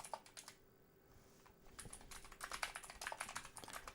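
Rapid keystrokes on a computer keyboard, sparse and quiet at first, then a denser, louder run of clicks and taps through the second half, with no talking.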